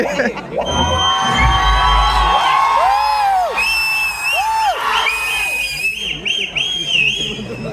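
A loud crowd in an enclosed IMAX cinema hall in Chennai cheering, shouting and whooping at title cards during a first-day screening of the Demon Slayer Infinity Castle anime film, with whistles and excited voices rising and falling throughout.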